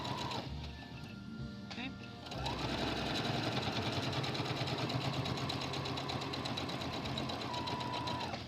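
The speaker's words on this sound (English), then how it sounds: "Just making sure to catch all that fabric up underneath my stitch." A sewing machine stitches a fabric strap for a beginner tote bag, running in a steady, close mechanical whir after a brief pause, with a short spoken word early on.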